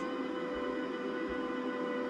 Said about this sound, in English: Here's a beautiful, beautiful train!